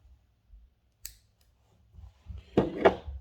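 Scissors snipping through a fishing leader line, two sharp close cuts following a few faint handling clicks in a quiet setting.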